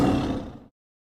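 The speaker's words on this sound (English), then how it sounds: "T for tiger." A tiger gives one short, loud, raspy roar that fades out quickly. It is heard alone and close, with no voices.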